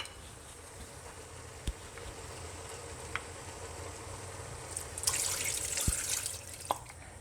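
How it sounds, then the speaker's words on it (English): Vegetable broth made from bouillon pours into a pot, a soft liquid splash building up near the end amid faint sizzling and a few sharp clinks. "And then 2 cups of veggie broth that I already prepared from a bouillon."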